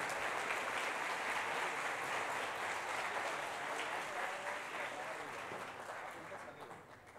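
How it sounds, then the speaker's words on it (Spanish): An audience at an information security congress applauds speaker Francisco Durán, a dense sustained round of clapping that holds steady and gradually tapers toward the end. "Le damos un fuerte aplauso al profesor Francisco Durán"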